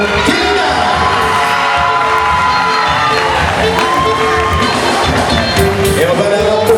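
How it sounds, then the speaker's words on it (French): At a 2012 carnival queen election in southern Martinique, an audience cheers and applauds for a queen candidate, a dense, loud, unbroken crowd roar with whoops and shouts running throughout. "Des applaudissements, s'il vous plaît, pour Kélina."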